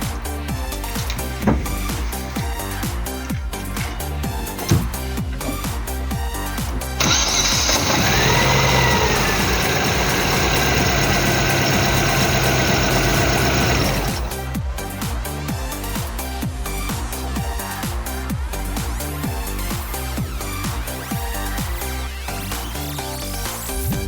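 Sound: Chevrolet Kalos 1.4 16V F14D3 engine idling, misfiring

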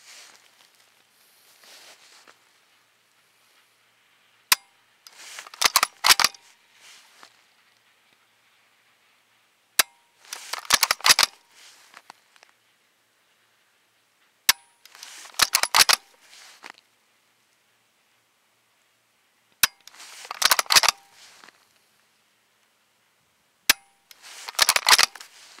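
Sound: cycling the bolt of a DTA SRS rifle with a 308 conversion

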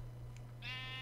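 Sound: sheep bleating in Minecraft, from a video game

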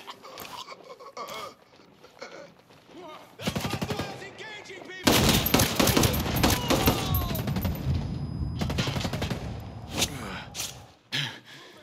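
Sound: gunfire in Ghost Recon Breakpoint video game

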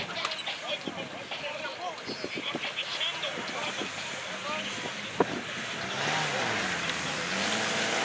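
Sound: Shark buggy engine racing at a UAZ club drag race

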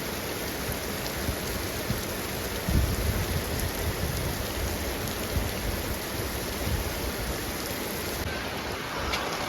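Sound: heavy rain

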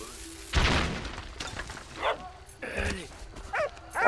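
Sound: dog barking in the video game Valiant Hearts

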